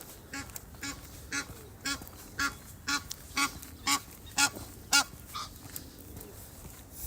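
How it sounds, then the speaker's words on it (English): Ducks quacking in a steady series of about a dozen short, nasal calls, fairly close and clear, with quiet gaps between each quack and no voices over them. "Feisty ducks"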